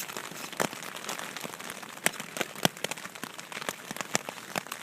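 Rain pattering on a tent on a cold trail campsite, a steady dense hiss of drops with sharper close taps striking the fabric now and then, no voices.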